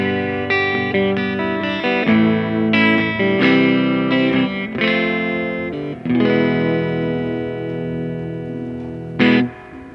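Electric guitar played through a Supro 15-watt amp with a 12-inch speaker on a clean setting, giving a steady run of ringing chords and single notes with light grit, close and loud and without talk, and a sharp strum near the end.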